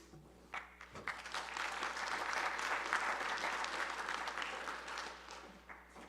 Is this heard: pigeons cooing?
no